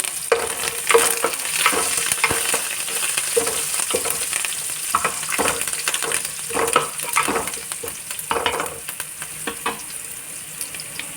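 Cumin seeds and curry leaves fry in hot oil for an amaranth-leaf stir-fry, a loud close sizzle with repeated rhythmic stirring scrapes and spatula knocks throughout, no voices.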